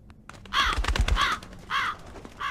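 A crow caws repeatedly in the horror video game Mists of Aiden: four harsh, nasal calls in an uneven rhythm, fairly close and loud over a low rumbling game ambience, with no talking.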